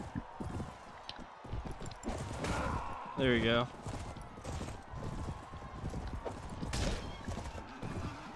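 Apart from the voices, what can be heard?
horse hooves galloping in video game Mount & Blade: Warband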